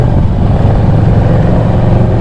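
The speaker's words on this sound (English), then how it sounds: "the 114 engine, we just got to 70 in a heartbeat" A loud, steady motorcycle engine roar from a 114 engine with a deep low rumble, continuous throughout, running hard as it accelerates to 70.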